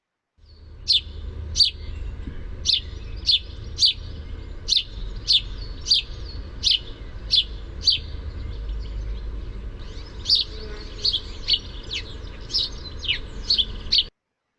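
A common bird gives a steady run of sharp cheep calls, about a dozen evenly spaced chirps, then a quicker cluster near the end, loud and close over a low outdoor rumble.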